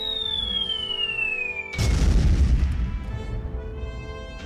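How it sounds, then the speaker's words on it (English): A descending whistle cuts off into a deep, booming cannon blast from a tabletop Warmachine bombard cannon sound effect that rumbles and decays over a couple of seconds, loud and close. "The Destroyer then walks up alongside and fires its mighty bombard cannon."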